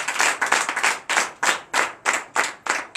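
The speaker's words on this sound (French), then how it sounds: "Donne l'acclamation à Jésus." A church congregation claps in acclamation of Jesus during a night deliverance and prophecy service in Comé, Benin: a quick flurry of hand claps settles into a steady rhythmic beat, close and loud, with no talking.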